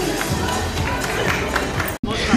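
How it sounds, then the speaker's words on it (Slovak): At an outdoor show jumping event, a sizeable audience applauds with dense, steady clapping that is loud and continuous from start to finish. A brief dropout near the end interrupts it. "to si zaslúži, dámy a páni, váš veľký potlesk"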